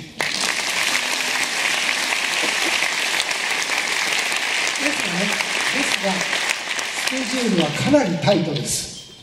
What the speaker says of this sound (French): Je vous demande d'applaudir Philippe.